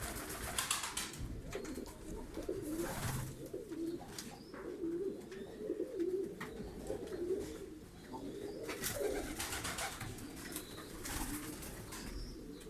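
Several pigeons cooing nearby in a loft in soft, overlapping bursts, with occasional flutters and faint chirps in the background.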